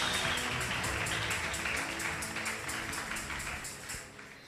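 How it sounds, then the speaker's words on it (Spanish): A church congregation applauds loudly and steadily during a sermon, a dense wash of clapping that slowly fades toward the end. "Un aplauso fuerte al Señor Jesús."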